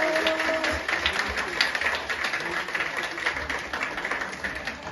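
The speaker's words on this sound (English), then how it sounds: "please give your loudest applause to the lively Curadang de Bohol dancers" Audience applause for the Curadang de Bohol dancers at a Bayanihan cultural show in Abergavenny, South Wales: steady dense clapping from a crowd, sustained and fairly loud throughout with scattered voices mixed in.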